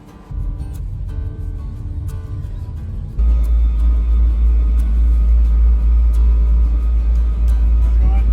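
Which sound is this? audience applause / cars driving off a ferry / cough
cars driving off a ferry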